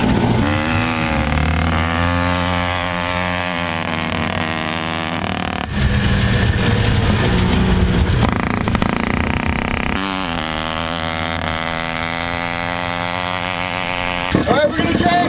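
Turbocharged rotary-engined ATV driven fast, its engine revving loud and steady with rising and falling pitch, a brief gear-change dip midway, and people talking over it.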